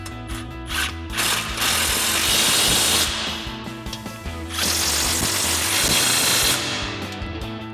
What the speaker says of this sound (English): we're going to tighten them down with our 19mm socket on our impact